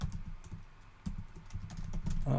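Rapid clicks of typing on a computer keyboard while writing Rust code, quick irregular bursts of keystrokes close to the microphone with brief pauses between.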